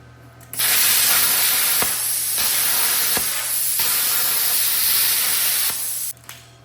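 An ArcCaptain Cut55Pro plasma cutter slices through metal, throwing out a loud, steady spraying hiss that begins sharply and holds for about five seconds with slight shifts in intensity before cutting off abruptly.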